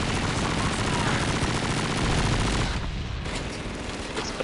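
Gunfire in the Call of Duty 2 campaign battle at Stalingrad, a dense, loud, continuous clatter of rifle and machine gun shots with explosive bursts, a brief lull midway.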